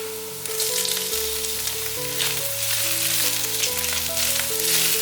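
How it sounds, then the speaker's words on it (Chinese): Shiitake mushrooms and minced ginger stir-fry in hot oil in a wok, giving a steady close sizzle and crackle, with spatula scrapes and light stirring clatter over quiet background music. "把香菇炒香。"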